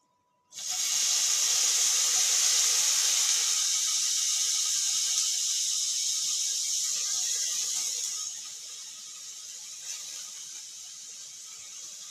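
Cumin and onion hit hot oil in a pan for upma, bursting into a loud, steady sizzle that starts abruptly and continues close by, easing to a softer hiss for the last few seconds.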